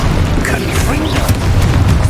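A Confringo fire-blast spell explodes in the game Hogwarts Legacy, a loud, dense rumbling boom that fills the whole moment with crackling bursts on top.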